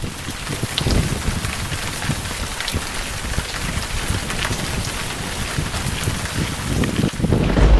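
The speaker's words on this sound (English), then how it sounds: "Soon it began to rain" Steady rain pattering on a surface on the Camino de Santiago trail, a dense continuous hiss with scattered drips and some wind rumble, no voices.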